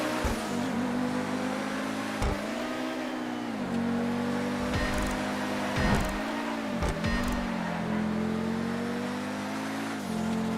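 Several F3 race cars in the video game GTA at the Malaysian Grand Prix circuit drone and rev together, engines rising and falling through gear changes in a continuous, fairly loud pack under a safety car.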